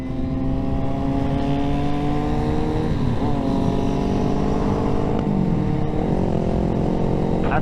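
Motorcycle riding with a group to a bike rally in Poland, its engine droning steadily and loud with rising and falling harmonics as it accelerates, a continuous close roar with wind noise throughout.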